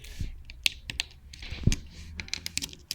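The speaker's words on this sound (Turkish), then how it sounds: "Şöyle ince bir klavyemiz var." A thin computer keyboard is typed on in a bedroom, with a quick, uneven run of light key clicks and a few heavier taps, close by and without speech.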